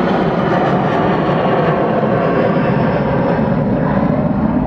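Loud, continuous engine roar of a Boeing jet airliner taking off, a broad rumbling noise that holds steady throughout.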